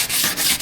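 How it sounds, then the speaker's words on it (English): A flat sanding block works Bondo body filler on a Jeep CJ-7, giving close, raspy back-and-forth scraping in about three quick strokes, loud and alone. "So I'm gonna try and flatten this out with this flat sanding block."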